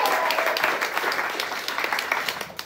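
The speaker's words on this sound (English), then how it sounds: "Clap it up for Domo" Audience applause for a contestant at a comedy game show of sobriety tests in a New York venue, a steady wash of clapping that thins slightly toward the end.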